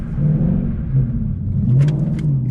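A 2015 Mustang GT with an automatic transmission does donuts, its engine droning loud and close. The revs surge and ease in a continuous throaty roar, with no voices.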